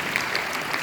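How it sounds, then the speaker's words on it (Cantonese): Audience clapping at a product launch event, a dense, steady patter of many hands throughout the brief moment. "其實就俾掌聲自己啊"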